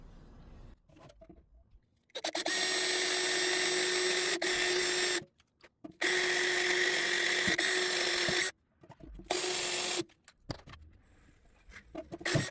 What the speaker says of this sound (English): I'm gonna drill a pilot hole first, and then we'll do the hole saw.